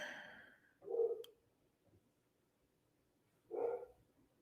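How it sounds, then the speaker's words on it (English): A dog barks indoors in the distance, two muffled single woofs a couple of seconds apart, faint and isolated against near silence. "Sorry about the barking."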